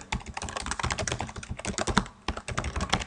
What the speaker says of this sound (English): pressing a known combination of keys, especially as popular as Ctrl+C